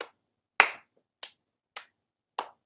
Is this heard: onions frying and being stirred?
no